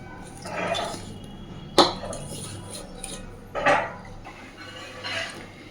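Hands mixing small bele fish with spices in a bowl, giving soft, irregular squelching and light scraping with a few sharper knocks against the bowl, close and fairly quiet.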